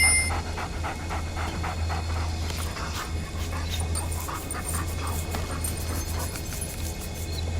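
Rhythmic, quick dog panting in the video game Pupperazzi, a steady series of breathy huffs over a constant low background hum, close and without speech.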